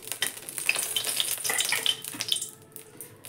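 Curry leaves dropped into hot mustard oil in a wok, giving a bright crackling sizzle with sharp spits and pops that fade toward the end, no talking.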